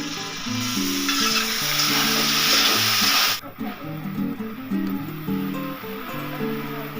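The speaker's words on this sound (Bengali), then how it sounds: "হালকা ভেজে নিব" Okra fries in a wok with turmeric and salt, a loud, close sizzle that cuts off sharply partway through while soft background music plays on.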